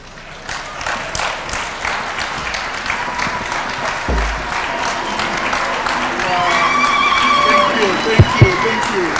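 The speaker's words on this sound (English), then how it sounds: "Let's give a warm clap for that." Applause at a State House event in Kenya, a crowd clapping steadily and building louder toward the end, with a few sharper knocks near the close.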